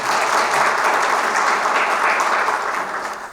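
Steady, dense applause from a lecture audience welcoming a former university professor to the podium, loud and continuous for the whole stretch with no voices over it.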